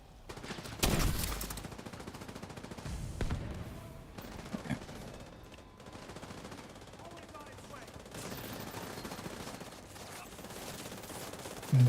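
Rapid automatic gunfire from The Division rattles in repeated bursts at moderate volume through most of the stretch, with a voice talking over it.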